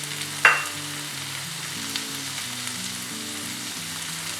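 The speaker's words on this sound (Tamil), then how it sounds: "அடுத்தது வெஜிடபிள்ஸ் ஆட் பண்ண போகிறேன்." Carrot, potato and peas drop into a hot pan with a sharp initial sizzle that settles into steady, moderate frying for tomato rava bath, no voices.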